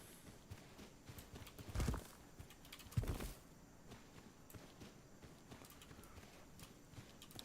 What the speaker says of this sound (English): I thought I heard some extra footsteps coming up behind me.